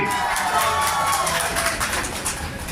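A crowd at a Congress party political speech claps and cheers in a dense, steady wash of applause that holds at an even level throughout.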